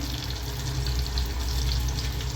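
Homemade french fries frying slowly in hot oil, a dense, steady bubbling sizzle heard close and uninterrupted, with no voices.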